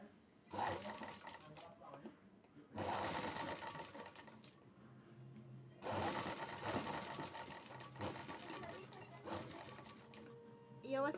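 A sewing machine stitches slippery fabric in three bursts of fast rhythmic whirring separated by short pauses, close and fairly quiet.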